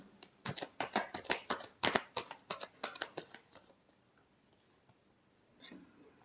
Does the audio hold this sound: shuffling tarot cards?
yes